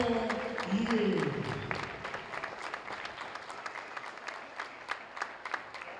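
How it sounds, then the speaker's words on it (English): Crowd applauding at a high school girls' varsity basketball game, Lynn Classical versus Chelsea, during a senior recognition. The clapping starts loud over a brief voice and then fades to a thinner, scattered patter. "if you please rise and give a nice round of applause to these people"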